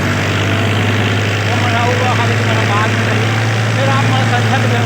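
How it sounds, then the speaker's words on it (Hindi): A tractor engine runs steadily through a rice paddy harvest, with a loud, constant low droning hum and no break. Faint voices sit under the engine noise. "अब हमारे ट्रैक्टर था निकलत हवे"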